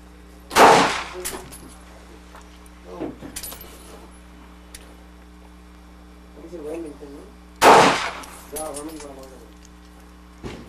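Two loud, sharp reports from a cheap Saturday Night Special pistol ring out several seconds apart, with someone talking in the quieter stretches between them.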